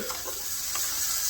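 Baby bok choy, leaves broken apart, sautés in a pan with a steady loud sizzle and faint stirring.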